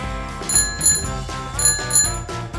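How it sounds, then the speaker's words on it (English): A bicycle bell in a children's vehicle vocabulary cartoon rings in two bright double-ding bursts, crisp and close, over light background music. "What's that? A bicycle."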